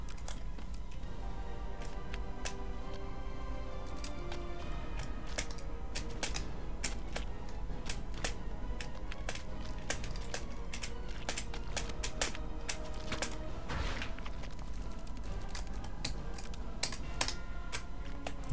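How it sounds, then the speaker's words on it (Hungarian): Computer keyboard typing during a Super Meat Boy Redux playthrough, a steady stream of close, crisp key clicks with occasional sharper taps over a constant low background hum. "hogy hallatszik a billentyűzet"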